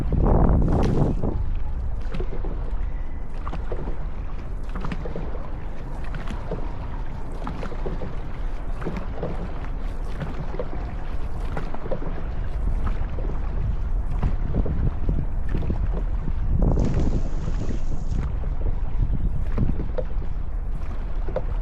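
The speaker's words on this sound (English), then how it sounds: "You're still paddling, just a lot lighter." A rowing crew practises in a boat on open water, with paddle strokes splashing in a loose repeating rhythm over steady wind noise on the microphone, close and fairly loud, with no talk.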